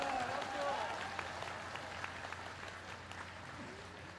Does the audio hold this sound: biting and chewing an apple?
no